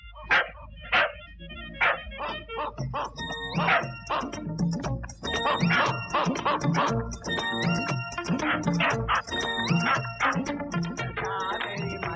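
Village dogs barking: several sharp barks and yips repeat throughout, some whimpering, set against a busy bed of film music, near and fairly loud with no talk.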